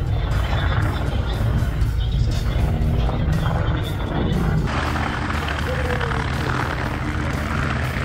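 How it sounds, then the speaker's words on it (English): A stunt helicopter used for aerial shows flies overhead with a loud, continuous engine and rotor roar and a dense low rumble that holds steady and close throughout, shifting slightly in tone partway through. "Stunt helicopter, helicopter for aerial shows."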